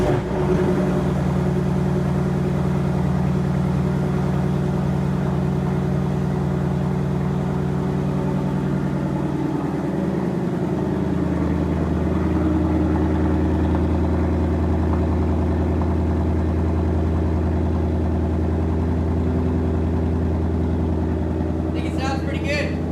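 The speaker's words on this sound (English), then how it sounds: "Project Blue Dini, first startup with this new setup here." A 2019 Ford Mustang GT V8 idles steadily after its first startup on a new setup, a low continuous rumble that dips briefly near the middle, then settles into a deeper idle before a short rattle at the end.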